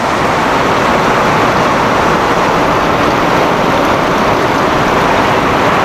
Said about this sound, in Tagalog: Lakas ng ulan na to.